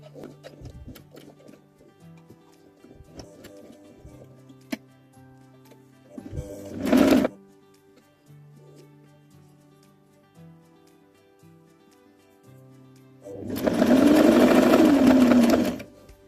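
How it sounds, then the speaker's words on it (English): A sewing machine stitches close to the edge of a hem on a full-skirted dress, running in two bursts: a short run near the start and a longer, louder run near the end, with quieter handling sounds between. "And then we will sew as close as possible to the edge again."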